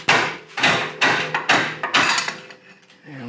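Rubber mallet striking a vehicle ball joint to free it during axle removal: about six firm, evenly spaced dull thuds, close and loud, followed by a short metallic rattle.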